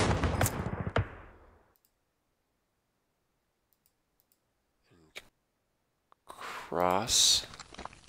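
Gunfire in a Rising Sun campaign video game set during the fall of the Philippines: a loud burst at the start, near silence, a few scattered faint clicks and shots, then a heavy rattling burst of fire near the end.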